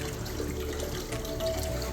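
Water drains from a guppy fish tank, a steady faint trickle and gurgle with soft sloshing, no voices heard.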